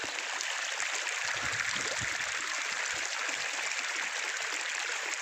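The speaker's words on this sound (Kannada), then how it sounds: "ನೀರು ಬೀಳ್ತೈತಿ ನೋಡ್ರಿ" Water pours steadily from a pipe, a constant rushing splash at moderate level with no pauses or voices.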